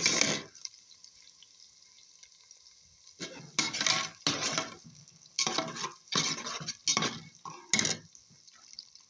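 Onions and garlic sauté in a pan over a chimney wood-fire stove, with a steady high sizzle and repeated bursts of stirring and spatula scraping at irregular intervals.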